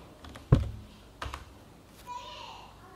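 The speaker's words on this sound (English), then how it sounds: "Just I am typing the pub sub." Computer keyboard typing at a desk, a few distinct key clicks and taps spread over a few seconds, fairly close and moderately loud, with faint background noise and no one talking.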